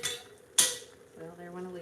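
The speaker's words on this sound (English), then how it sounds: "there went a lid" A metal pot lid drops in a farmhouse kitchen and strikes with one sharp, bright clatter, then rings briefly and fades while a voice murmurs faintly in the background.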